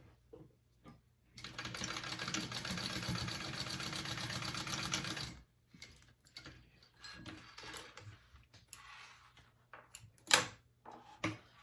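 A sewing machine runs a continuous basting stitch through a fabric bag panel for about four seconds, fairly close, then stops; soft clicks and handling noises of the fabric follow.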